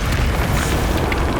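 A Confringo blasting spell explodes in Hogwarts Legacy, a loud, dense roaring burst that fills the whole moment without pause.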